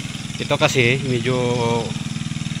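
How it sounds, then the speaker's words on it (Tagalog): The small engine of a farm roller (pagulong) runs in a field with a low, even putter that a man's speech partly covers. "Ito yung kanyang makina mga kaparmas, yung pagulong natin."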